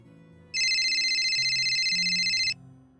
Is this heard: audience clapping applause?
no